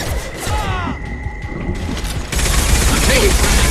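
Video game combat fills the clip with loud, dense bursts of gunfire and a booming explosion, continuous and close, with a tonal hum partway through and no clear talk.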